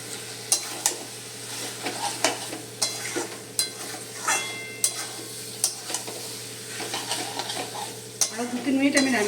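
Data stem chorchori, a vegetable stem curry, stir-frying in a pan: a spatula scrapes and clacks against the metal in repeated strokes over a steady low sizzle, close up with no speech.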